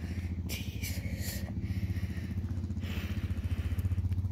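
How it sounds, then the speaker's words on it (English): A motorcycle engine putters steadily on a residential street, a low throbbing pulse that stays moderately close with some clattering and a car passing faintly in the background, no talk. "On a motorcycle."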